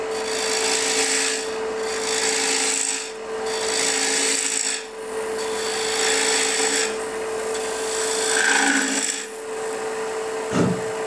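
Repeated rasping scrapes of a carving tool making pull cuts across the edge of a wooden cigar ashtray, close up, in several strokes with short pauses, ending with a small knock.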